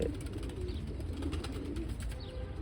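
Pigeons coo and murmur steadily nearby, with a few faint chirps over a constant low background.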